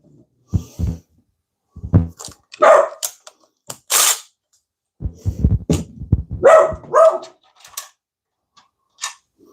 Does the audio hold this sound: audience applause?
no